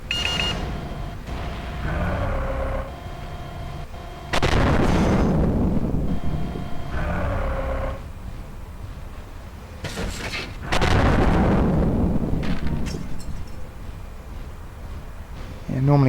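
Two heavy booming blasts in MechWarrior 4: Mercenaries erupt several seconds apart, each rumbling and fading slowly, amid game sound effects and talk.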